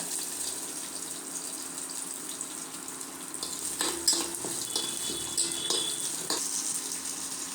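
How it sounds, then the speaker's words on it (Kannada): Curry leaves and spices for a hotel-style red chutney fry in a pan, giving a steady, fairly quiet sizzle with a few brief stirring scrapes and clicks partway through. "ಸ್ವಲ್ಪ ಸ್ವಲ್ಪ ಹಸಿ ಸ್ಮೆಲ್ ಹೋಗೋ ರೀತಿ ಹುರಿಯೋಣ ಅದರ ಜೊತೆಗೆ ನಾನು ಕರಿಬೇವಿನ ಎಲೆಗಳನ್ನ ಹಾಕೋಣ"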